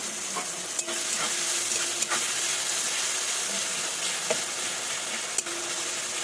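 Green chillies and nigella seeds sizzle steadily in hot frying oil, a dense continuous crackle with a few sharp pops and stirring clicks, close and alone without voices.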